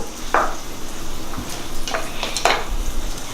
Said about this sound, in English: To the pan for the chard, you're gonna add shallots.